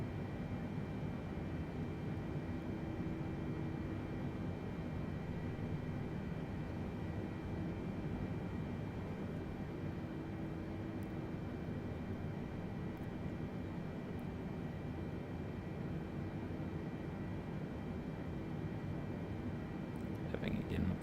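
A simulated airliner in Microsoft Flight Simulator taxiing slowly onto the runway, giving a steady, low engine drone with a faint whine that holds level and unbroken throughout, fairly quiet and without variation.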